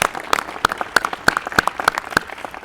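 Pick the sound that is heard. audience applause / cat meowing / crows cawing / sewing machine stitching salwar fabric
audience applause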